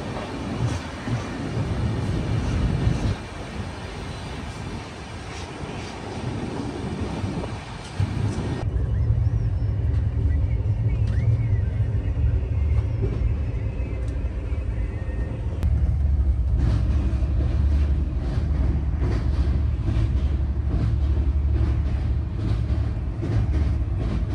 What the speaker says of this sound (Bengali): রঙ্গিয়া জংশন থেকে রাজধানী ছুটে চলেছে নিউ বঙ্গাইগাঁওয়ের দিকে